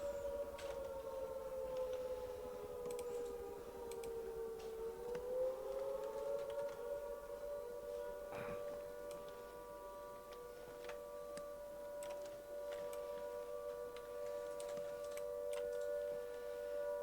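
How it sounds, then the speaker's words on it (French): A civil defense siren wails in the video game Arma, a loud sustained tone that dips and rises once before holding steady, with scattered faint clicks and ticks around it. "La sirène elle est violente, hein."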